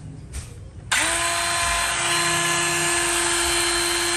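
A Ryobi 18V cordless wood-cutting saw spins up abruptly after a brief quiet moment, then runs loud and steady with a high whine and no talk over it.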